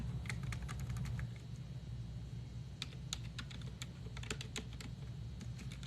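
Typing on a computer keyboard with long fingernails, quiet irregular clicks in short bursts and scattered single taps over a low steady hum.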